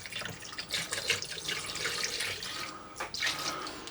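Liquid poured over a large resin 3D print, a close splashing, trickling stream with dripping that wavers in strength and briefly breaks off near the end.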